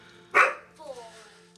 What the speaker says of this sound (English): And then he barks.